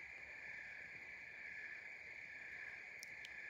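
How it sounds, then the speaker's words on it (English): Crickets chirp at night in a steady, continuous high trill that holds unbroken throughout, moderately loud against a faint background hiss, with a couple of brief sharp clicks near the end. "The crickets be cricketing."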